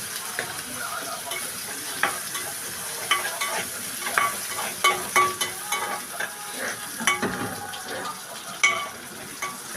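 Garlic, onion and tomatoes being stir-fried in a pan sizzle steadily while a utensil scrapes and taps against the pan in irregular strokes, close and clear, with no talk.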